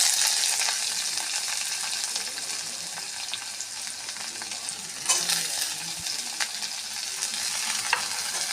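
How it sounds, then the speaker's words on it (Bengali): Potato, onion and green chilli with black cumin seeds fry together in a pan, a near, continuous sizzle with stirring scrapes and occasional sharper crackles for several seconds. "আলুটা একটু ভাজা ভাজা হলে তারপর আমি ভেন্ডি দেবো"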